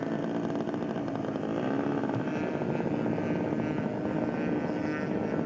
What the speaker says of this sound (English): Steve Ort, taxiing out